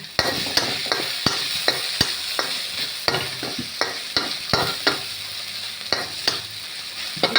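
Ingredients stir-fry in oil in a pan with a constant loud sizzle, punctuated by regular sharp clinks of a spatula scraping and tapping the pan.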